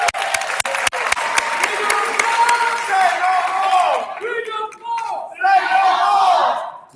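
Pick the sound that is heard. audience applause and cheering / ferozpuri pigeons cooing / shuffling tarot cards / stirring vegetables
audience applause and cheering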